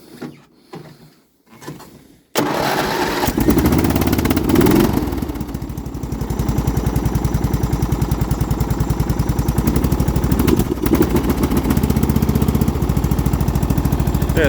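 A Toro HXL 13-38 lawn tractor engine cranks briefly, then catches and settles into a loud, steady close-up running drone that carries on without a break.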